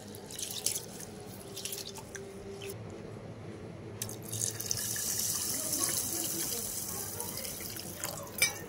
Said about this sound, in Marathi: 1 ते 2 वेळा आपण पाणी ऍड करून हे तांदूळ स्वच्छ असे धुवून घ्यायचे